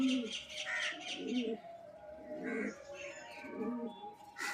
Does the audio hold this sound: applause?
no